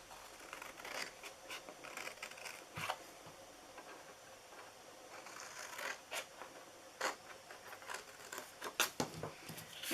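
Scissors cutting through a paper gift box template, irregular close snips and papery scratches, quiet, with scattered sharper clicks and rustles and no talk.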